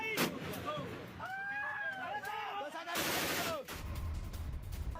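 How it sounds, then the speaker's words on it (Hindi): Gunfire crackles during a clash between rebels and soldiers in Colombia, with sharp bursts and heavy booms at mid distance, and excited voices shouting underneath. "आमने सामने फायरिंग की आवाज।"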